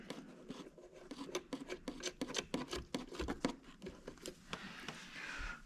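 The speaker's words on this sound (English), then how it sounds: "line it up with this threaded rod and get our nut started" A nut being started by hand on a threaded rod while fitting a billet part on a Lexus: fine, quick metallic scratching and rasping clicks in irregular bursts, close but quiet, with no talking.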